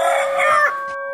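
A rooster crows once, close and loud, a short strained call that trails off into a sustained note.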